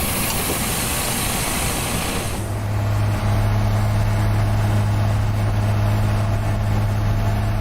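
A heavy truck engine in the off-road truck simulator game Heavy Duty Challenge settles into a steady, loud low idle drone after a brief rush of broadband noise, running continuously with no talk.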